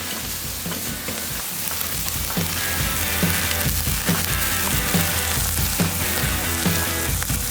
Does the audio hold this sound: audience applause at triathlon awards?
no